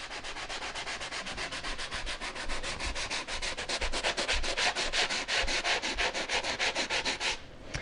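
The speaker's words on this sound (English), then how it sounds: "So I'm just going to work on sanding that part down nice and smooth." Close, rhythmic scratchy rubbing of a sanding sponge on a drywall patch, quick regular back-and-forth strokes.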